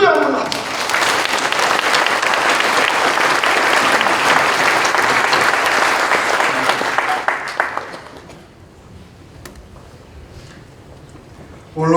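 Church congregation at a Korean worship service applauding loudly together, with sustained clapping for about eight seconds before it thins out and fades to a quiet room.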